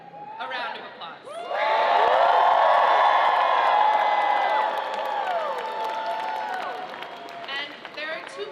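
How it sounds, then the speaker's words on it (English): A large crowd at a political victory rally erupts in applause, cheering and whoops for a speaker, the roar swelling loud and sustained for several seconds, then easing into ongoing clapping with scattered shouts. "please join me in giving Zohran, our friend, a round of applause"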